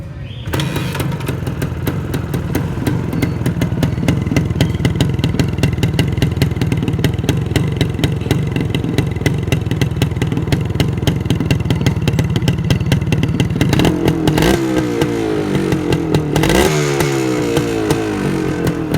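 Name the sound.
Suzuki TS 185cc 1994 motorcycle engine sound test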